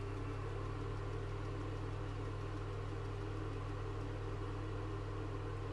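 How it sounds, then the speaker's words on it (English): A microwave oven's steady hum drones on without change, loud and close, with no voices over it, running on an off-grid solar lithium setup alongside an air conditioner. "So I'm running the microwave, guys, the air conditioner."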